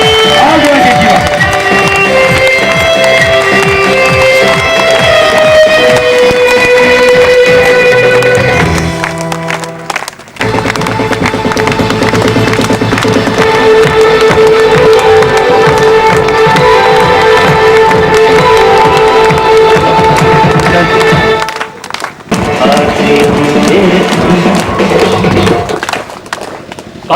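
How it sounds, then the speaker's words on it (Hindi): Audience at a large RCM business networking event claps loudly and cheers as royalty achievers are called on stage, a dense sustained roar of applause with music playing underneath, briefly dipping twice before swelling again. "आप लोग की जोरदार ताली एक बार खड़े होकर बजाए उन रॉयल्टी अचीवर के लिए"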